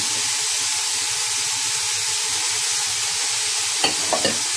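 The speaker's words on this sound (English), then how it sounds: "Just saute them a bit." Vegetables for a vegetable biryani sizzle in a hot pan, a loud continuous hiss of frying with a few sharp scraping stirs near the end.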